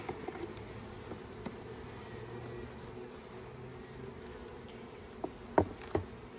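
Honey bees from an overwintered hive buzz steadily during a spring inspection, a soft continuous hum with a few brief louder clicks and knocks near the end.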